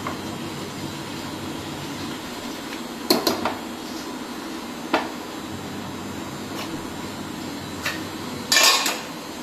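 A utensil stirs boiling water into a mixture in a pot, giving a few sharp metallic clinks and knocks at irregular intervals over a steady low background hiss.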